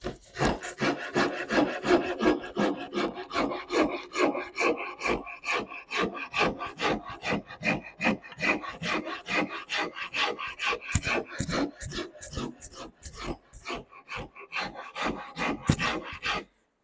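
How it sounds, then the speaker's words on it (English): A rasp scraping wood in steady back-and-forth strokes, dozens of quick rough rasps in a continuous rhythm, close up. "I'm going to get out my down and dirty rasp that I showed you yesterday"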